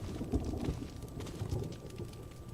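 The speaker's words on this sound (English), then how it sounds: "I do like that there's a thunderstorm raging outside" Thunderstorm with rain and low rumbling thunder in the Resident Evil Remake video game, a faint continuous patter with soft low rumbles, distant and quiet, no talk.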